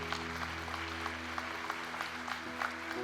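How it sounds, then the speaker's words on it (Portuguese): A church congregation claps together in steady, sustained applause during a sermon, a dense, even wash of many hands close and loud with a faint hum underneath. "Quem pode dar uma salva de palmas para o Senhor?"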